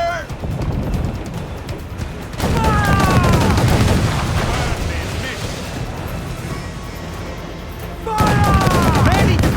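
Enemy cannon and gunfire in Assassin's Creed 4 Black Flag: heavy, rumbling volleys of booms crash in loud dense bursts and roll on through a noisy naval battle, with shouting voices in the mix.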